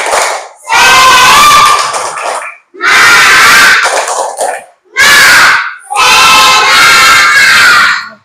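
A school class performs the 'tepuk semangat' spirit clap chant, loud bursts of children's shouting and rhythmic clapping in four close, energetic phrases separated by short pauses.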